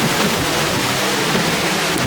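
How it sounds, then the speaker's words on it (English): A stream at Nieuwoudtville burbling over rocks and branches toward a waterfall, a steady broadband rush of flowing water close by with no breaks or voices. "Listen to the stream burbling as it travels along its bed, bubbling over rocks and branches to the waterfall."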